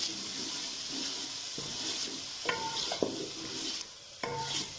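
Steady hiss of peas frying in a pan, with occasional scraping and stirring clatter, close by and moderately loud, no talking.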